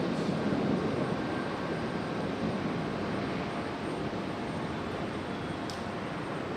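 An Aeromexico airliner taxis out at Raleigh-Durham International Airport, its steady engine rumble broad and continuous at a moderate distance, with no talk over it.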